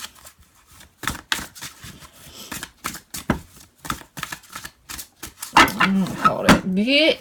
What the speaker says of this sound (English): I'm gonna go ahead and shuffle this one too, just to be safe in there.